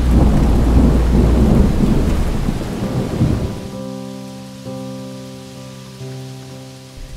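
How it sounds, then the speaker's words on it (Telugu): Thunder rumbling over a forest in Maredumilli, Alluri Sitarama Raju district, during rain: a loud, deep roll that fades over several seconds, followed by a quieter rain patter and a steady tonal hum. "ఆకాశం కేకేసింది."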